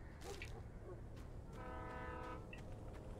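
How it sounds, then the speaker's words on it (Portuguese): A train in the Alan Wake video game blowing a steady, tonal horn for about a second midway, with clanking rail noise and brief clicks around it, all at a modest level. "Eita, olha o trem lá."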